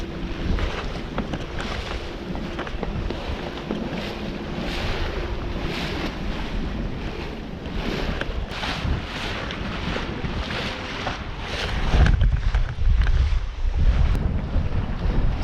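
Sailboat under way off the coast of Galicia heading into Ria Pontevedra, with continuous wind buffeting and rushing water along the hull, steady and fairly loud, swelling near the end.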